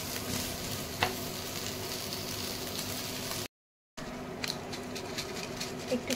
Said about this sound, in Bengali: আরও কিছুক্ষণ ভাজবো।